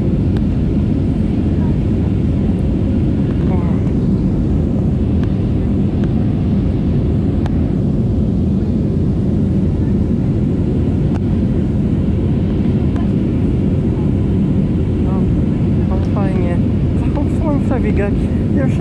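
Steady low roar of a Wizz Air airliner cabin in flight between England and Poland at sunset, a dense continuous drone filling the background throughout, with occasional faint voices and small clicks near the end.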